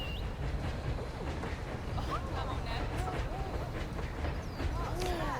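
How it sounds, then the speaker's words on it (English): A fast-moving train ride in the Planet Zoo video game, with continuous rumbling motion and rushing noise beneath scattered higher calls and a speaking voice. "The train is going really fast."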